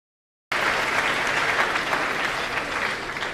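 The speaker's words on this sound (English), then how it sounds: "I think we should give ourselves a round of applause." An audience at a university matriculation ceremony bursts into steady, loud applause after a brief silence, with many hands clapping together continuously to the end.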